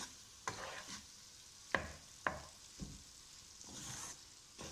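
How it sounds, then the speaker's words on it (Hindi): Breakfast ingredients being stirred and mixed in a hot pan, with soft sizzling frying underneath and several distinct scraping strokes of a utensil against the pan, close and fairly quiet, no talk. "अब इसको हमने अच्छी तरह मिक्स करना है।"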